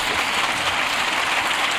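Members of the Colombian Congress applaud in a dense, steady wash of clapping that fills the chamber without a break.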